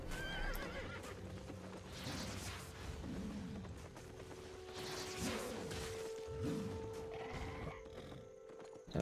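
A horse or mule ridden in the online game Albion Online: steady clip-clop hoofbeats with whinnies and neighs, running continuously under a busy game ambience, with no talking.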